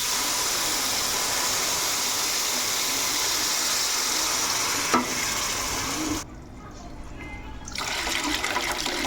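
Tamarind juice poured into a simmering fish curry with green mango, a loud steady rush of liquid and sizzling that briefly dips and quiets before the bubbling and stirring pick up again.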